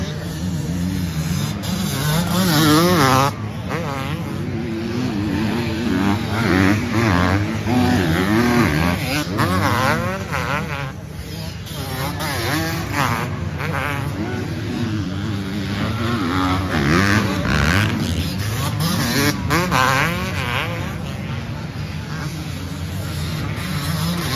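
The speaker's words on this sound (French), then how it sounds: "Lucas Humbert va arriver derrière, il va certainement partir pour un tour rapide également." Motocross motorcycles on timed qualifying laps at a French Elite championship round on a sandy track, with engines revving and wavering continuously, rising and falling as the bikes pass.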